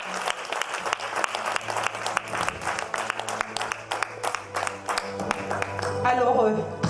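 A church audience applauds to acclaim the Lord at a Christian gathering, with continuous loud clapping from a crowd and a voice speaking over it near the end.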